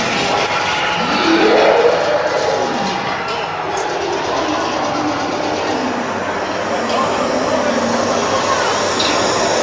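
A steady, continuous rumble of a theme park ride tram moving along at Universal Studios Orlando, with voices talking faintly underneath.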